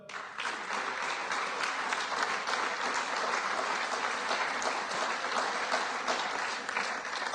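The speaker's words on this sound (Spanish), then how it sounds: "Si usted quiere aplaudir," A church congregation applauds together during a sermon: dense, steady clapping from many hands holds at an even level for about seven seconds, with no voices rising above it.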